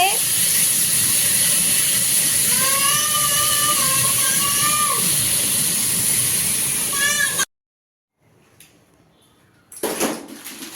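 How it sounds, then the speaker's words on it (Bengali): Pointed gourd frying in a pan gives a loud, continuous sizzling hiss, with a cat meowing over it, then cuts off abruptly to near silence before a brief rustle. "এখন একটু পটলগুলো আগে ভেজে নিই"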